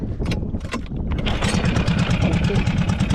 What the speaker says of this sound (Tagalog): buhay natin itong makina